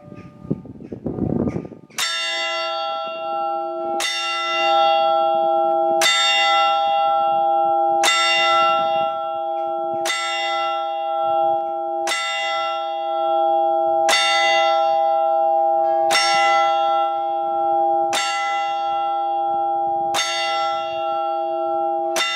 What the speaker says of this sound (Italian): Ascoltiamo adesso una suonata a plenum di queste campane con l'Angelus solenne.